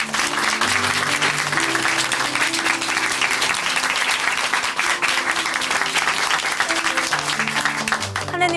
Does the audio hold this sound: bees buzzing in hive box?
no